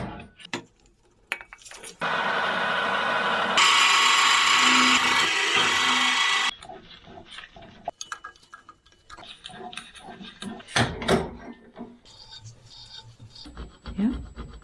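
A power drill bores two holes during work on a Land Rover Discovery TDV6 oil pump, a steady loud whine lasting several seconds and rising in pitch partway through, followed by scattered clatter and handling noises.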